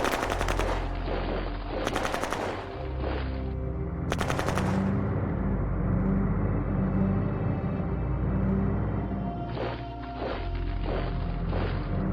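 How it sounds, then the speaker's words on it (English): Heavy gunfire in the strategy game Shadow Empire, with dense machine-gun bursts rattling in sharp loud clusters over a sustained rumbling battle din, repeating in several waves. "I'm under heavy fire."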